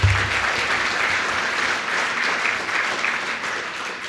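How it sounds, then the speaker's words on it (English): Audience applause at an integrated planning workshop, a full crowd clapping steadily and fairly loud from start to finish, with a brief low thump at the very beginning. "Let's give her applause, please."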